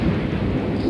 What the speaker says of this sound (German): jetzt hat gerade wieder ein Blitz eingeschlagen